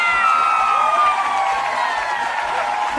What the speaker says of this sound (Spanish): ¡Ay, fuerte las palmas ahí para mi amigo Abelardo!